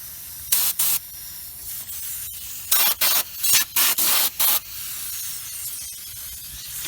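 A hose sprayer mists homemade rust killer into tight spots under a vehicle in a series of short, sharp hissing bursts of varying length, close and moderately loud, with quiet pauses between them.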